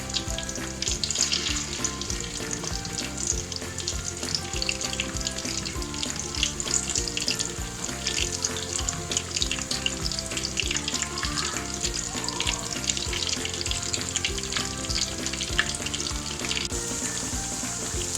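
Chicken pieces sizzle steadily in oil in a karahi over a medium flame, a loud dense crackling hiss that runs on without a break and with no voices.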